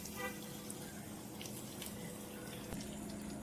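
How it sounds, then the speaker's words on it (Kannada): Semolina-coated masala fish pieces fry in hot oil in a pan, giving a steady close bubbling sizzle that hisses evenly throughout. "ಈ ಟೈಮಲ್ಲಿ ನಾನು ಎಣ್ಣೆಯಲ್ಲಿ ಫಿಶ್ನ ಹಾಕ್ತಾ ಇದ್ದೀನಿ"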